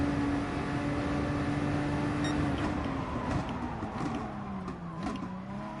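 Race car engine in GT Sport held at full throttle along the Curva Grande acceleration zone, a steady sustained drone with a slowly shifting pitch, loud and continuous throughout with no talk.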